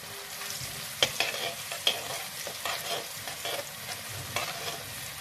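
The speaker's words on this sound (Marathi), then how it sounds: "कढीपत्ता थोडासा असा ट्रान्सपरंट दिसायला लागतो म्हणजे तो तळून झाला." Curry leaves frying in hot oil in a pan, with a steady close sizzle and occasional sharp stirring clicks and spoon scrapes, no voices.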